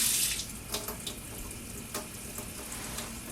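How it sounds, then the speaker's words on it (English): Water runs steadily from a sink tap for handwashing, a continuous close splashing hiss with small bursts of droplets, heard alone with no talking. "So we're going to turn the water on here."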